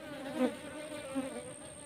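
Wild honey bees of a species that nests in holes and among rocks buzz close by, a continuous droning hum that swells twice as insects pass near, with no talking.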